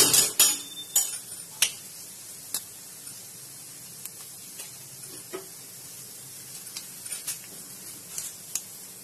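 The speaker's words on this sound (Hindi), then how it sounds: "उसमें मैं एक बड़े चम्मच जो मैंने राई ले रखा था उसमें छौंक डाल रही हूँ" Sharp irregular pops and crackles of mustard seeds spluttering in hot oil while tempering for dosa, loud bursts at first, then scattered fainter pops over a quiet sizzle.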